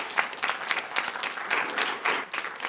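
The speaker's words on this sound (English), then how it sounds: "Michael and Alex another round of applause." An audience at a transport forum in the City of Casey applauds Brad, Michael and Alex, with dense, uneven clapping that swells and dips in waves over a few seconds and no voices on top.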